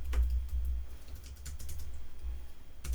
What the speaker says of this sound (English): What did we say about cats typing?